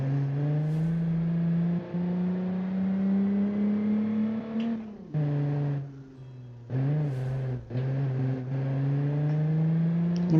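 A simulated mid-engine car in the BeamNG driving game circles a course, its engine droning steadily with rising and falling revs and several abrupt cuts and restarts of the tone as it slides around.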